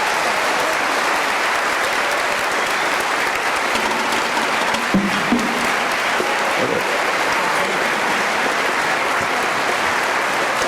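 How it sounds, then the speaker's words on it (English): Sustained, dense audience applause at a high school marching band concert honoring the senior class, loud and even throughout, with a brief voice or cheer partway through. "give them a huge round of applause"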